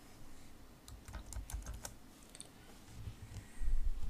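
Typing a web search query on a computer keyboard, a quick scatter of light key clicks in short bursts over a low background hum, with a louder thump near the end and no talking.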